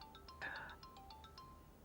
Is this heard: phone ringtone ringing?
yes